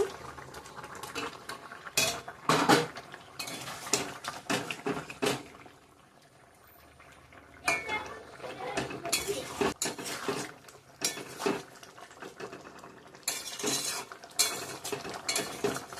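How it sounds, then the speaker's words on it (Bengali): Fish being added and stirred into a simmering radish, potato and eggplant curry, with repeated scraping and clanking of a utensil against the pot over bubbling, in close, busy bursts. "মাছটা এখন যোগ করে দেবো দিয়ে দিলাম"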